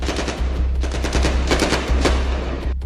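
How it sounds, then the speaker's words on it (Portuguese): Rapid bursts of gunfire, loud and close, shots cracking in quick irregular succession throughout. "Tiros durante a madrugada."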